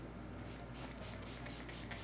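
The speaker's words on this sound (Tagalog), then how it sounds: "I'm just gonna put setting spray." Issy True Flex setting spray hisses onto a face in a series of short, soft misting bursts, close up and quiet, with no voices.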